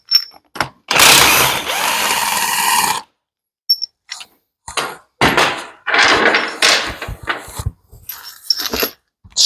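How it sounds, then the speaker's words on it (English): A power tool, likely an impact wrench, loosens bolts on a 7000 axle in loud, close bursts of buzzing and rattling, with a long run at first and then shorter choppy pulses and clanks. "I think I'm gonna try to loosen the bolts, get it wiggling"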